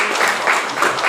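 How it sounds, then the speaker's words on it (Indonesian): Brief burst of crowd applause at a campus orientation event for new university students, continuous dense clapping heard close and loud. "tepuk tangan lagi ya"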